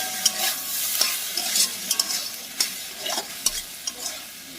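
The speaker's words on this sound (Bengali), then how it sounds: "আর এখানে হচ্ছে আমার খুব পছন্দের একটা খাবার, ভিন্ডি ভাজা" Okra (bhindi) fries in a pan at home, a close, steady sizzle broken by repeated sharp scrapes and clinks of a spatula stirring, with no voices.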